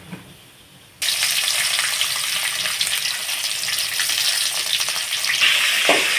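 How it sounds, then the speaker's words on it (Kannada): Spices tempering in hot oil for potato ambade burst into a loud sizzle after a second of quiet, then keep crackling and hissing steadily, with no voices over it. "ಒಗ್ಗರಣೆಗೆ ಬೇಕಾಗುವುದೆಲ್ಲ ಹಾಕ್ತಾ ಇದ್ದಾರೆ"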